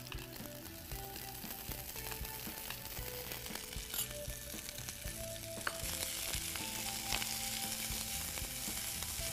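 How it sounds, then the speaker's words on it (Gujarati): Fenugreek leaves sautéing with onion in a pan for a paratha filling make a continuous soft sizzle, broken by faint scraping and light clinks of a stirring spoon against the pan. "મેથી તો એકદમ ઝડપથી સતરાઈ જાય."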